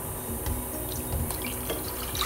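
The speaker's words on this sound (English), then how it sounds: "Add 2 cups of water." Two cups of water splash and trickle into a big bowl for pani puri, a soft continuous pour with small drips, faint and close.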